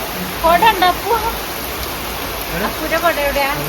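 Heavy rain pours down in a steady, dense hiss that never lets up, while a voice talks over it in short bursts.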